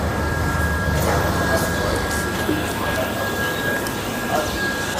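A train pulling into platform 1 at Malda station gives a continuous rolling rumble with a thin steady squeal of wheels, while people talk nearby over it.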